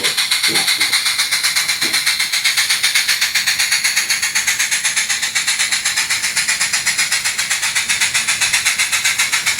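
An ON3 scale model train locomotive runs on a timber company layout, giving off a steady, fairly loud hiss with a fast, even pulsing rhythm that continues throughout.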